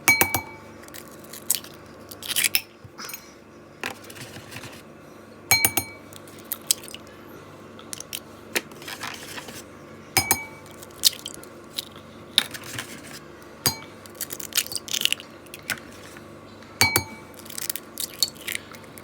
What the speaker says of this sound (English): I'm gonna go ahead and crack 5 of these eggs into this bowl.